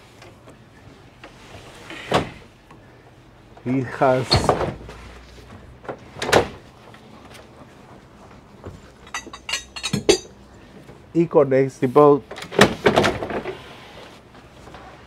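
A few heavy clunks and rattling thuds like a sliding door on a 2020 Galeon 500 Flybridge yacht opening and shutting, spaced apart, with someone talking between them.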